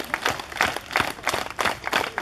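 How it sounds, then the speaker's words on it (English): An audience claps at a live event in Hawaii in quick, roughly rhythmic bursts of hand claps. The clapping sounds close and moderately loud, rising and falling in short waves. "Keep clapping."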